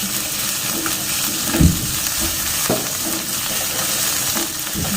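Kwetiau goreng in Jambi style sizzles steadily in a hot pan, with meatballs, beef and sausage among the ingredients, while a spatula stirs and scrapes the pan in occasional knocks close by.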